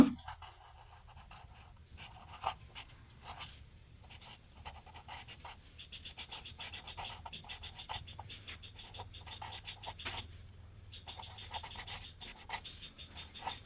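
A pen scratching across paper while working through a math problem, faint intermittent strokes and short scribbling bursts in a quiet room, with no talking.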